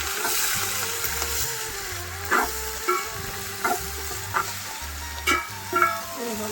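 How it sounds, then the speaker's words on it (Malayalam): Onions sizzling in a hot pan as they fry for a beef fry, a steady loud crackle with periodic scraping stirs of a spoon against the pan and a low hum underneath. "ഇപ്പം ബീഫിനുള്ള സബോള ഇട്ട് തുടങ്ങി"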